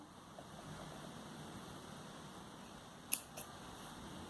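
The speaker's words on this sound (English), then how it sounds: "You can snip off this black color yarn." Scissors give two quick, faint snips through black yarn while crocheting a Santa-themed cutlery holder, set against a low steady hiss in an otherwise quiet room.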